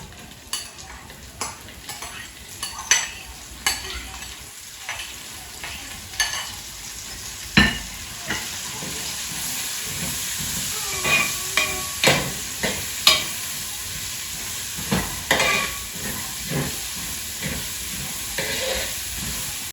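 Three medium onions sautéing in hot oil for grandma's prawn biryani, a steady loud sizzle and steam hiss punctuated by repeated scraping and clinking of a spoon against the pan.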